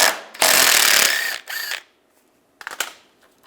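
A ratchet with a 10mm socket works radiator bolts loose on a 2014-2019 Toyota Corolla, giving a loud burst of rapid clicking, a shorter second run, then a few sharp clicks after a pause, up close with no talking.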